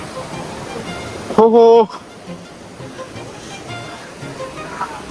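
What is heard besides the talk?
waterfall at Bir Billing hill station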